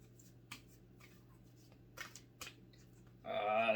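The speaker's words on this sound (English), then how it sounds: "let's get one of these cards that are ridiculously hard to shuffle" Large, stiff tarot cards being shuffled by hand: a few soft snaps and flicks spread apart, then a dense riffling burst at the end, close and fairly quiet.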